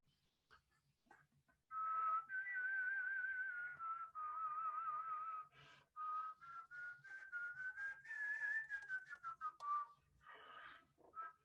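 Very soft whistle tones from a flute, thin wavering pure pitches that glide and hold in breathy, breaking phrases, close and quiet with short gaps between.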